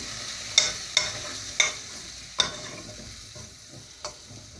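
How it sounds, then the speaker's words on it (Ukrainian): A spoon stirs flour into sautéing vegetables in a pan for soup, with a few sharp scraping taps over a steady low frying hiss. "І тепер я додаю муку."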